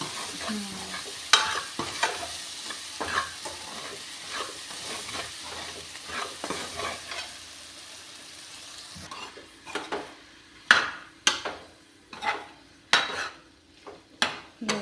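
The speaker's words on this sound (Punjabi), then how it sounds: "ਸਾਰੀ ਗੋਭੀ ਆਪਾਂ ਨੇ ਸਾਰੇ ਮਸਾਲੇ ਦੇ ਵਿੱਚ ਚੰਗੀ ਤਰ੍ਹਾਂ ਕਰਤੀ ਮਿਕਸ" Cauliflower with spices is stirred in a pan for a Punjabi gobi sabzi, giving a soft sizzle under repeated scraping and sharp clinks of a utensil against the pan, louder toward the end.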